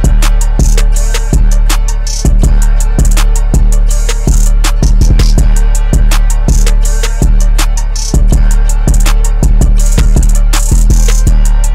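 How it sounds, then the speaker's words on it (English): A looping eight-bar hip-hop beat hook built in FL Studio, with steady punchy drums, sharp chopped hits and a plucked harp melody on top, loud and continuous with no voices. "So I said that I have these 8 bars hook that sound like this."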